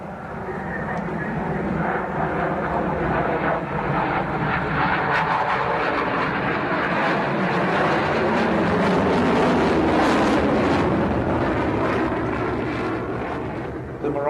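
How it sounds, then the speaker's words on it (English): Mirage jet aircraft flying low during a strike sortie, a steady loud roaring engine rumble that swells slightly toward the middle and holds continuously throughout, with no talk. "The Mirages came in low,"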